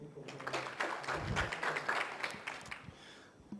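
An audience at a regional African conference session claps together after a talk, a dense spatter of handclaps swelling and then thinning over a few seconds, with some low voices underneath.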